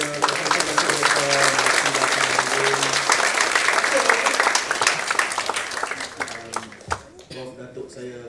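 Audience in a university hall gives sustained applause, dense steady clapping filling the room for several seconds before tapering off, with some speech mixed in.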